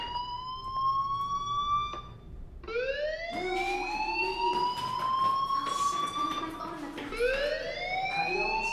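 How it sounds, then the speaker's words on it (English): A fire alarm in the video game Life Is Strange wails in repeated rising sweeps, three in a row, loud and close, each climbing in pitch before cutting off. "do you hear that fire alarm? That means you should be outside."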